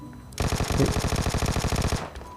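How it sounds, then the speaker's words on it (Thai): Automatic gunfire in the PUBG Mobile battle-royale game: a loud, rapid burst of evenly spaced shots lasting about a second and a half, then cut off abruptly. "เฮ้ยมีคนยิง ไปจากไหนวะ มีคนยิงผมนะเมื่อกี้"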